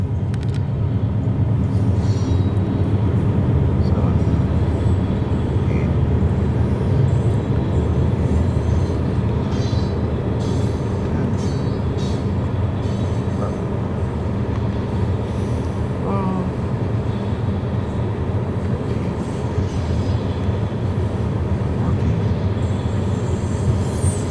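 A long freight train with tank cars rolls past a grade crossing on the Needles Sub, a loud, continuous rumble of wheels and clattering railcars with occasional squeals.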